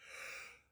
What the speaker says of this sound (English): Why am I yawning?